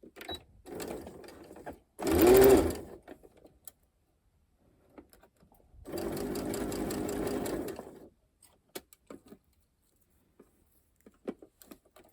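A sewing machine runs a straight stitch at average 2.5 length while attaching a cradle to bra cups, in two close bursts of rapid whirring, short then longer, separated by quiet handling clicks.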